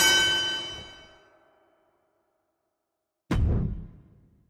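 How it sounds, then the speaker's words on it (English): A wrestling ring bell in the WWE 2K25 video game rings out with a bright metallic clang that decays over about two seconds, then after a silence a second, duller clang strikes and fades. "Ring the bell."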